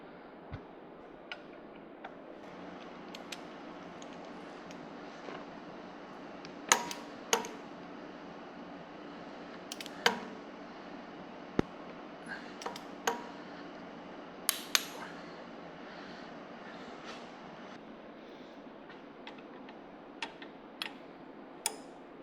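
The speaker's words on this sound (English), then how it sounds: "we're gonna get the valve covers off and get all these head studs retorqued" A torque wrench retorquing engine head studs with the valve covers off, giving scattered sharp metallic clicks at irregular intervals over a steady low background hum. No one speaks.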